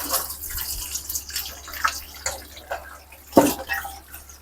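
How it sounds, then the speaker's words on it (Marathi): Raw Totapuri mangoes being rinsed under running water, with soft splashing and dripping throughout and a sharper splash near the end, no voices. "आता या आपण स्वच्छ आधी धुवून घेऊया।"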